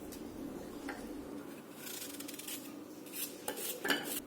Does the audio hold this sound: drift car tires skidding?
no